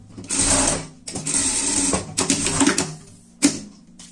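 A sewing machine stitches a safety seam on a pet cape, running in several short bursts of rapid mechanical whirring separated by brief pauses, close and clear.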